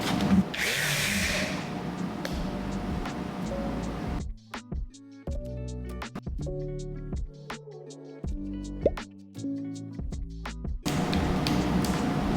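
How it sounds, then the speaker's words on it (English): Cane chair parts being sanded by hand with 50-grit sandpaper: a loud, steady scratchy rasp for several seconds, then a stretch of music, then the rough sanding noise returns. "now we're gonna sand these so that we can stain them"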